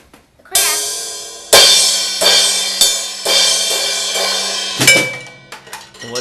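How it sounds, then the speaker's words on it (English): A drum kit crash cymbal struck several times, each hit a bright, shimmering wash that rings out and decays before the next, with a fresh strike near the end; played alone. "And this is called the crash."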